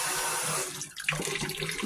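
Kitchen tap water runs into a container filled to the brim, a close hissing rush that cuts off briefly before splashing flow resumes.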